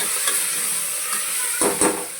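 Fish and vegetables sizzle in a hot pan under a steady frying hiss, broken by a few soft stirring scrapes toward the end, close up and without voices.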